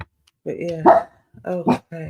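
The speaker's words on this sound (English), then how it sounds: "Excuse my dog in the background, barking at some children outside." A dog in a house gives a few barks at children outside, loud and close, mixed in with someone talking over them.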